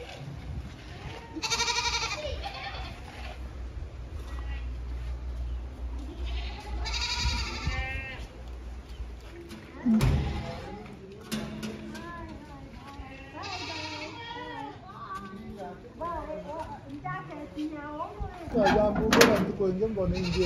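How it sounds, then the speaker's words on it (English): Goats bleating repeatedly on a farm in Kenya, several loud nearby calls rising over a steady low rumble, with voices talking intermittently throughout. "Here come the goats!"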